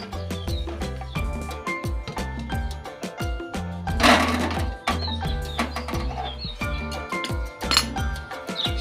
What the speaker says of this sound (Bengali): এবার মা মশলাটি শিলনোড়ায় নামিয়ে নিচ্ছে।